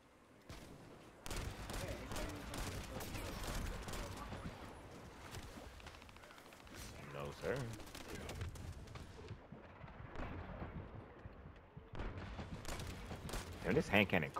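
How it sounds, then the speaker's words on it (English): Rapid hand cannon gunfire in the video game The First Descendant, dense repeated cracks and booms packed throughout with a busy battle din, heard under a player's talk. "Damn, this hand cannon crazy."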